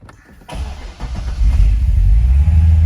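A 2007 Corvette Z06 with a naturally aspirated 505 hp V8 cranks briefly and fires up, settling into a loud, deep, rumbling idle close by, with no talk.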